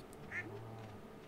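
A duck in the video game Stardew Valley gives one short, faint quack over a quiet, low background hum.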